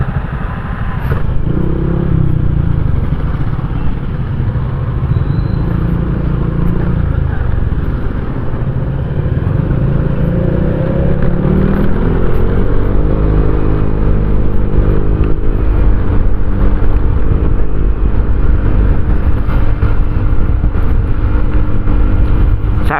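A 650cc Kawasaki Vulcan S motorcycle rumbles steadily up close on a ride, its engine note rising and falling through gear changes over constant wind and road noise.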